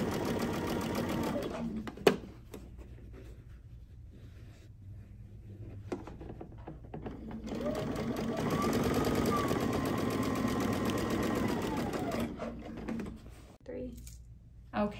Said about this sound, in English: So then you just start sewing and just keep your binding right up to that little mark.